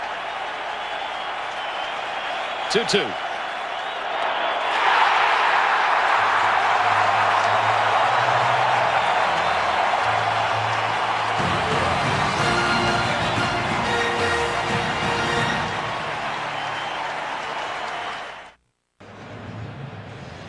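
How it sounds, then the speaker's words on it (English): A crowd at a 2003 ALDS game between the Twins and Yankees roars and applauds after a strikeout. The sustained stadium cheer swells and holds, a brief voice cuts in early, and the sound drops out abruptly near the end. "And the crowd roaring for another strikeout."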